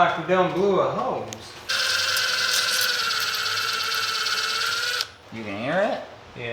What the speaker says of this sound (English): Sounds like we done blew a hose.